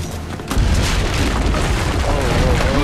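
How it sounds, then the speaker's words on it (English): Cannon fire erupts in the video game Assassin's Creed Brotherhood, a sudden loud boom followed by a sustained rumbling roar with game voices mixed in. "Use the cannons above the rampart."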